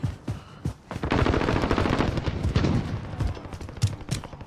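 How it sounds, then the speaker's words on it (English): Rapid bursts of automatic gunfire from a Call of Duty Plunder match, dense and continuous for several seconds with sharp individual shots at the start and end, loud and close. "Someone's shooting at me."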